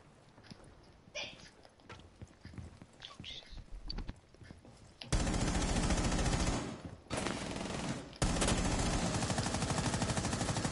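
Gunfire in Rainbow Six Siege crackles in rapid bursts, starting as scattered shots under quiet talk, then erupting into loud, sustained automatic fire with short breaks.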